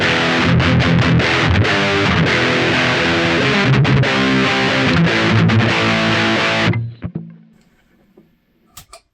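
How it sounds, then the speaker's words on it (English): Electric guitar played through the channel 2 distortion channel of a Mesa Boogie Rectifier amp: heavily saturated, palm-muted chugs and chords with rhythmic stops, loud and upfront, then an abrupt cutoff into a ringing decay and near silence. "let's check out the distortion channel, the channel 2 on the Mesa Boogie rectifier"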